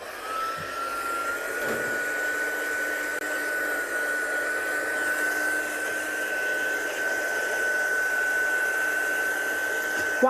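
A hair dryer blows continuously with a steady high-pitched motor whine over a rushing airflow, running near and loud without a break for the whole stretch.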